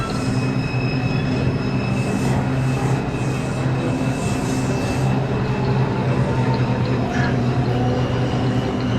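An MTA NYCT R142 subway car on a Manhattan-bound 5 train, running on the IRT mainline near Nevins Street, roars with a loud, steady rumble throughout, high wheel squeal tones riding over the din.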